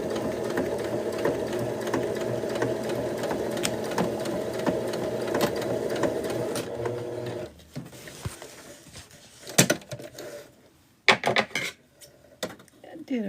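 A sewing machine stitches through a thick bag, running in a steady dense hum for about seven seconds, then stops. Scattered clatter and handling knocks follow as the fabric is moved.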